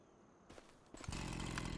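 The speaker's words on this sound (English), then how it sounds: "Chainsaw. Perfect. So let's get this cut down." A chainsaw engine in Farming Simulator 25 roars to life after a couple of soft clicks, settling into a loud, steady buzzing whine.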